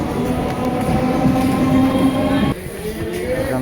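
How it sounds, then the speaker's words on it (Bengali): Train at Birati station, a loud, close rumble of a passing rail carriage with a sustained tonal whine from wheels and motors, changing pitch partway through, with no talking. "এখান থেকে মেগাহাটি জংশন এই ট্রেনটা নামলাম।"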